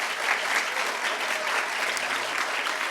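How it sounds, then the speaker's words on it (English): Audience applause at a talk event, a full steady round of clapping from a crowd held for a few seconds, with no voices over it. "Please give them one more round of applause."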